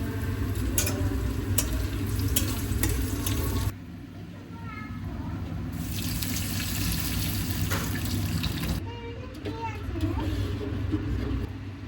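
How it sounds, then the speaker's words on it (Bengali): Whole cumin and black cumin, then chopped garlic and onion, go into hot oil to temper dal, producing a loud continuous hiss and sizzle that drops briefly and then surges again. "এখন আমি ডালটা বাগার দেব তো প্রথমে দিয়ে দিব গোটা জিরা আর দেব হচ্ছে কালো জিরা"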